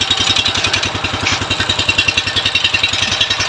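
A brand-new kuliglig hand tractor engine idles close by with a steady, fast chugging pulse, loud and even throughout with no talk.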